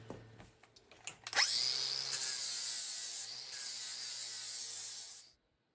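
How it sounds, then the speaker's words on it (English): Angle grinder working a weld on metal outboard motor artwork, a few short taps and scrapes first, then a loud, steady high-pitched grind held for about four seconds before cutting off abruptly. "let me grind this up, clean it up, and then we'll see how it looks"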